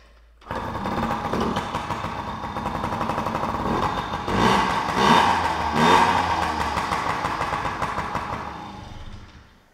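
A Yamaha PW50 two-stroke minibike engine buzzes into life and keeps running, a steady high-pitched drone that swells briefly as it revs, loud and close.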